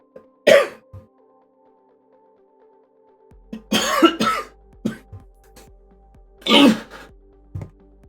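A person with a bad cough lasting several days coughs in separate bursts, some single and some in rough clusters, close and loud against near silence.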